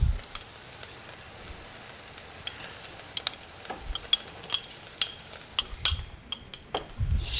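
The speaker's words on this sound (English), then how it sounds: "So we can go ahead and add our butter to our sauce." Butter being stirred into a pan sauce on the stove beside pork chops, a faint low sizzle with sparse clinks and taps of a utensil against the pan, no voices.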